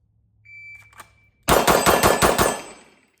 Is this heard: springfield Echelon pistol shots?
yes